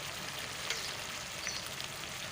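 Ginger garlic paste sizzling in a pan while cooking arbi salan, a steady soft crackle throughout with a few faint clinks, no voices.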